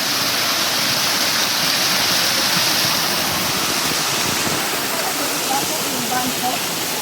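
A stream rushes along a hiking trail to Lulumahu Falls, a loud, steady broadband roar of flowing water that holds unbroken throughout, with people talking faintly beneath it.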